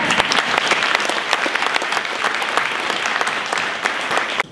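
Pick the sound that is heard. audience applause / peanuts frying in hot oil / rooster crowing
audience applause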